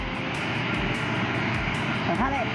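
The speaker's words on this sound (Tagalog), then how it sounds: "rinig mo yung ingay ng mga turbo engine or jet engine" A steady, loud roar of jet aircraft engines nearby at an airport, with a person speaking briefly over it.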